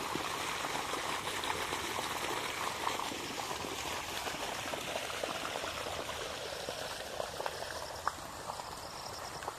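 Water flows into a paddy field, running steadily with a broad gurgling rush that holds at an even level throughout, close by and with no talk.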